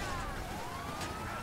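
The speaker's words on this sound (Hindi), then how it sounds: "ये पुलिस की गाड़ी लेके भाग रहा हूँ मैं" A police car siren in the video game GTA 5 wails steadily and loudly, its pitch sweeping slowly over dense, roaring engine and street noise.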